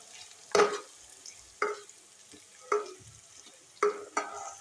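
Grated garlic, onion and chili frying in a pan, stirred in four or five separate scraping strokes spaced about a second apart, each over a soft background sizzle, nearby and without talk.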